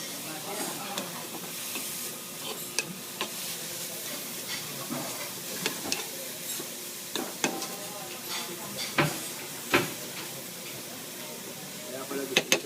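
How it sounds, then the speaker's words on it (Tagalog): Sauerkraut heating in a pan, a steady faint sizzle and hiss with scattered scraping stirs and clinks of a utensil against the pan. "So, ininit lang natin yung sauerkraut natin."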